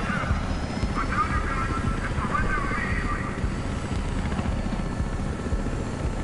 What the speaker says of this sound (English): It's slowly dying helicopter.